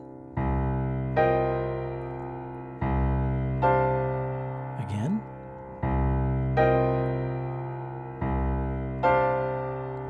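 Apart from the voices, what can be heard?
two minor chord voicings played side by side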